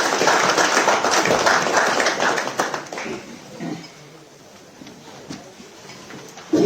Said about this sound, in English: Can we continue clapping hands for him?